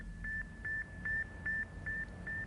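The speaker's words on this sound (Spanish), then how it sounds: "pude oír un sonido. Era más como un grillo que un bip" The Sputnik satellite radio signal comes through as six evenly spaced, pure-toned beeps, faint and regular, over a low background hiss.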